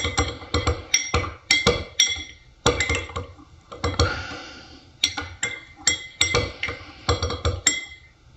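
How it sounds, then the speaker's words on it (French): A metal spoon clinks repeatedly against a glass while stirring oil and water, giving a steady series of bright, close taps in quick bursts with short pauses. "Si j'essaye de mélanger avec ma cuillère"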